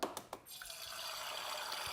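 An egg fries in oil in a pan, with a few quick taps at the start followed by a steady, bubbling sizzle that holds evenly to the end, and no voices.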